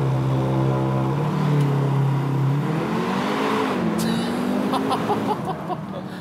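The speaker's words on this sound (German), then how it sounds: "Launch Control aus dem Tunnel." Audi TTS Roadster under launch-control acceleration out of a tunnel: a loud engine note climbs steadily in pitch, drops at a gear change near four seconds, then climbs again, with a brief burst of tire or exhaust noise.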